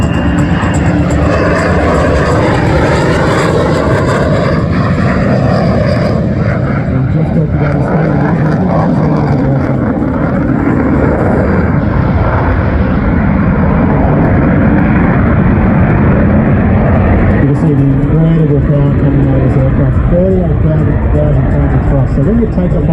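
An F-35A Lightning II fighter jet roars past at the 2024 Shellharbour airshow, a loud sustained engine rumble filling the whole stretch while an announcer speaks over it.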